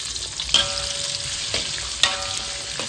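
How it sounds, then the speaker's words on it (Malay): Sambal frying in a pan, a continuous loud sizzle with a few sharp spatters and stirring clicks, close and alone without talk. "Masak sambal pula."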